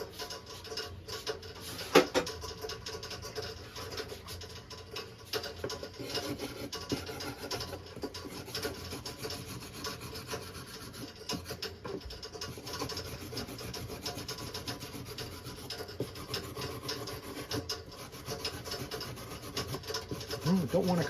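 A hand file rasping on a small piece of aluminum, a steady run of quiet scraping strokes that keeps up without a break, close and faint, with no talking.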